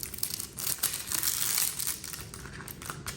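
Sticky clear plastic film being peeled off a round diamond art canvas, a soft, close crackling and crinkling that runs on steadily and quietly.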